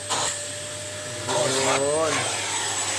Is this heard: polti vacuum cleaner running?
yes